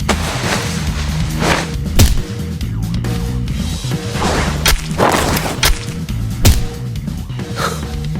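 An audio drama has gunshots fired at a target during a hired hit. Several sharp, booming shots are spaced apart over a dense, loud background score.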